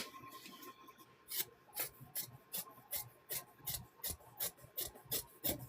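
Quilted fabric for a fall table runner being trimmed with a rasping, rhythmic cutting stroke, repeated about a dozen times in quick succession, close and fairly quiet with faint background hum.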